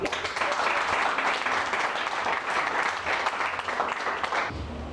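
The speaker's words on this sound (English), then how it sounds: "Give him a hearty clap." A crowd claps heartily for Japan's head of government to Kenya at a gathering in the Mathare informal settlements, steady dense applause for several seconds that then breaks off abruptly.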